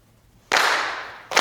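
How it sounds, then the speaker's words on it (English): Group hand claps at a Bay Area Day of Remembrance 2021 ceremony, a sharp loud burst followed by a second one close behind, with no voices. "let us clap our hands 4 times together."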